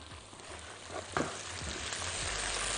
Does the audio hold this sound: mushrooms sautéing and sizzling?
yes